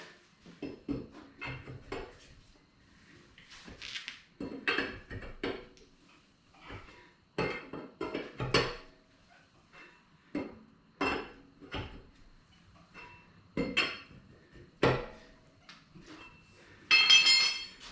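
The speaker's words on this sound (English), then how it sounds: "put a final tightening on the lug nuts in the same pattern where you alternate sides" Lug nuts on a car wheel get a final tightening after a flat tire change, heard as a series of sharp metallic clanks and ratchet clicks in irregular bursts, fairly faint with quiet gaps between them.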